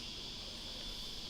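Steady, dense buzzing drone of summer cicadas, a continuous high hiss-like chorus that holds evenly throughout with no breaks.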